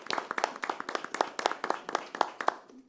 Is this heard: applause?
yes